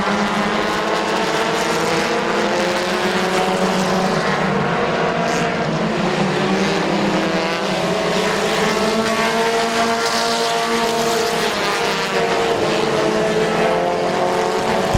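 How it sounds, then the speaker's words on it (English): Race cars at Midvale Speedway, a short oval track, roar continuously through the whole stretch, several engines droning and shifting pitch together as the pack circles, loud and steady with no talk over it. "Here comes the 4 of Salisbury, doing the crossover on the 19 of Oliver."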